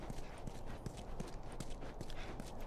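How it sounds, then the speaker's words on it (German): Horse hooves clip-clop at a steady walking pace in the video game The Last of Us Part I, a regular run of soft, moderately close thuds against a constant low background with no talk. "Wenn die Ellie noch auf dem Pferd sitzt, dann müssen wir hier nicht weiter"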